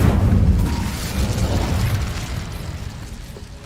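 A heavy fiery blast from the Incendio spell in Hogwarts Legacy erupts loudly at once, then rumbles and fades over a few seconds, with no voices.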